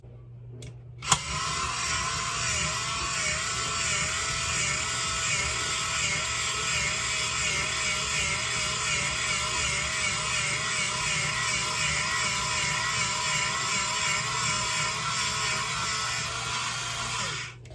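Electric potato peeler running continuously after a click at the start, a steady whirring motor hum with a rhythmic scraping whine as the potato turns on its spike, loud and close.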